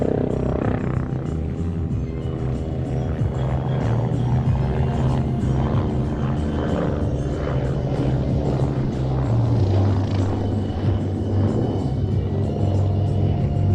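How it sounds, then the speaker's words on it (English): A real helicopter flying at a Red Bull aviation show gives a loud, steady rotor and engine drone with a low rumbling hum that holds unbroken throughout, close and dominant. "Yes, it is a real helicopter."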